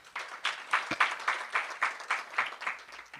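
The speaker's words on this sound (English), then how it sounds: "You should applaud yourself for that." An audience at a Newsmaker of the Year award ceremony claps in a strong, regular unison rhythm, about three beats per second, each clap close and distinct.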